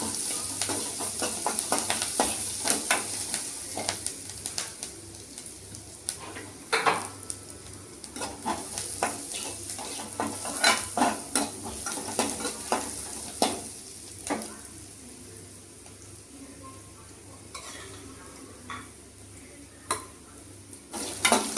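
Onions sautéing with salt in a pan, a steady soft sizzle broken by frequent scraping and clinking stirs of a utensil against the metal, close and fairly quiet, with no voices.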